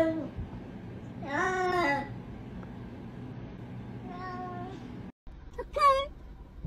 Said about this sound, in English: Many of you have chosen the car cat from last episode as your favorite talking cat